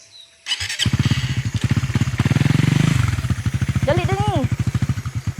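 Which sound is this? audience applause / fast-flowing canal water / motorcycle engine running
motorcycle engine running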